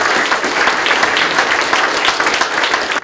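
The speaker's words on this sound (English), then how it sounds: "if anybody deserves a round of applause." Crowd applause at a charity walk event for cancer care and Gaelic football in Galway: a loud, dense burst of many hands clapping continuously, then cutting off abruptly.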